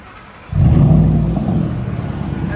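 A 2013 Ford F-150 with a 5.0L V8 and leaking true dual exhaust rumbles loudly up close, revving from idle into a deep, sustained roar that gradually settles.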